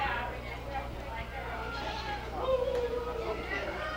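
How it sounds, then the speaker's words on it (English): A goat on a farm hayride bleats faintly once amid steady outdoor rumble and chatter, partly masked by the background noise. "The goat's getting excited"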